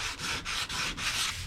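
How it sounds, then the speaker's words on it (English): Hand sanding the detail work and nooks of a wooden table during refinishing: four quick back-and-forth rasping strokes, close and fairly loud, with no voices. "you're going to want to hand sand all the detail work and all the little nooks and crannies"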